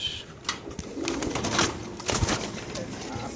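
Caged racer pigeons coo in soft, repeated, throaty bursts at close range, with light rustling and shuffling in between.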